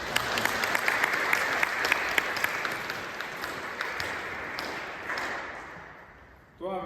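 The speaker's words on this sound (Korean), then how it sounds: "박수로 환영해 주십니다" A church congregation claps to welcome a first-time visitor at a Sunday service, a steady crowd of hands that gradually thins and fades before a short burst of sound at the end.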